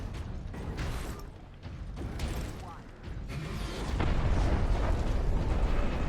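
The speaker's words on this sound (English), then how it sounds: "There's explosion." Rumbling, booming explosions in the Warhammer 40K Space Marine video game, dense and loud throughout and swelling stronger in the last couple of seconds.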